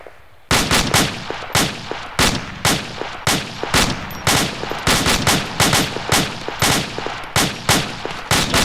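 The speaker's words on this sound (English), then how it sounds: "Stop shooting Bravo. Hold fire." Rapid bursts of automatic rifle and machine-gun fire in the Arma 2 military video game, loud and close, repeating in sharp clustered volleys with only brief gaps over several seconds and no talk.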